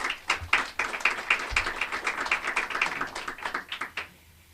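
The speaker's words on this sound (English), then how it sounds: "If we can give Stanley a round of applause." Audience applause at a municipal fiscal-year 2019 budget presentation, a steady patter of dense clapping for about four seconds that fades out abruptly near the end.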